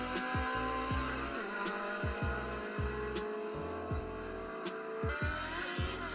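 A race car engine breaks up during a drag race between a K24-swapped coupe and a B20-powered EK hatch, its drone stuttering in rapid, repeated misfire-like pulses that stay loud and steady throughout.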